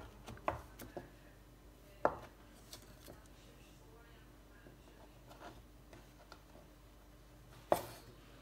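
A knife dicing Swedish blood pudding on a board, with sparse sharp chops spread across a quiet kitchen and soft speech faintly underneath.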